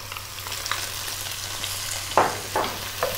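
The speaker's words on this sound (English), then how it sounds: "we're going to go for 2 more minutes stirring pretty much all the time" Onion and celery stir-fried in hot infused oil over maximum heat: a steady crackling sizzle with a few louder scraping stir strokes near the end, close up and without speech.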